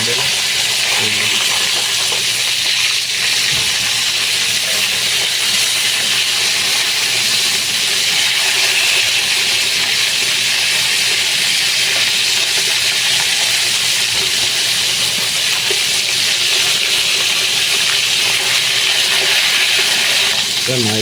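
Chicken necks deep frying in hot oil, a steady dense sizzle and hiss that runs unbroken and fairly loud throughout.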